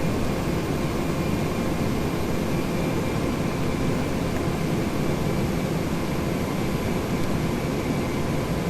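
Cessna Citation X business jet in the FSX flight simulator, its engines a steady, loud broadband roar and whine held at a constant level throughout, with no voices over it.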